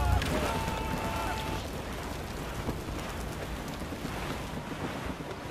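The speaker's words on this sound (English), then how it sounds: "Nature doesn't want us out here. She bites with a fierce wind." A fierce wind at sea in Assassin's Creed Rogue roars as a constant, loud, broadband rush over a sailing ship, with waves washing and the wind buffeting steadily throughout.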